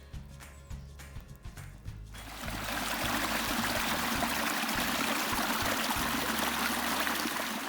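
A small creek flows on rural homestead property among pines, a steady broad rush of water that swells louder after a couple of seconds and holds constant, with faint low thumps early on.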